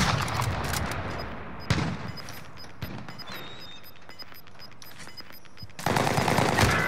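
Bursts of rapid gunfire in a team-based shooter video game, loud at the start and again near the end, with quieter scattered shots and game sounds in between.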